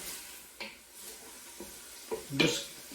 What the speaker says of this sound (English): it's starting to sear a little bit down here